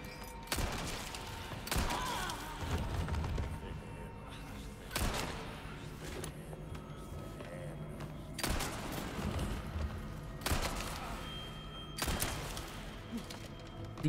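Sniper rifle shots ring out in Resident Evil 4 Separate Ways during Ada's campaign, a series of sharp, loud reports spaced a couple of seconds apart over a constant game backdrop.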